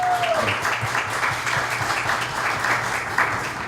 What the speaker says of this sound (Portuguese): Uma salva de palmas para Guarapuava,